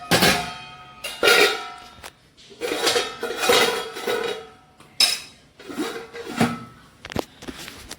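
A lid goes onto a pot of cooking chole in a home kitchen: a string of close, sharp metallic clanks and clinks spaced through the stretch, with no talking.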